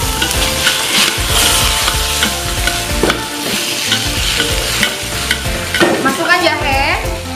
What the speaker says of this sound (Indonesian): Kita tumis sampai warna sapinya sudah mulai berubah setengah matang.